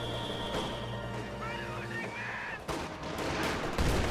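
In Company of Heroes 2, gunfire strikes a machine gun crew as moderately loud bursts and cracks over a steady battlefield din, with sharper shots near the end.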